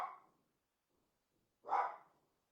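A dog barks twice, once at the start and once more loudly after a pause, calling toward other dogs that live down the hill; the barks are fairly close, with near silence between them and no talk.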